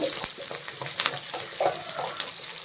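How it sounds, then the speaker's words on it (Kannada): Onions sliced lengthwise sizzle in a pan for capsicum rice, a constant crackling fry close up with occasional soft stirring knocks. "ನಾನು ಆನಿಯನ್ ಫ್ರೈ ಆಗಿದೆ"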